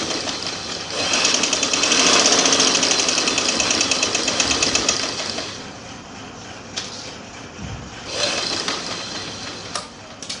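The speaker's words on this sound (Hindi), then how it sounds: "तो चलिए हम शुरू करते हैं सिलाई करना।" A sewing machine runs close and loud, stitching with parachute cord wound in the bobbin and ordinary thread on top while making a gents' collar band, a fast rattling whir for several seconds, then slowing to intermittent bursts and clicks.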